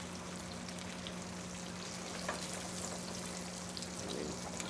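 Steady, crackling sizzle of eggs frying in butter in a hot pan, close and continuous, with a faint low hum underneath.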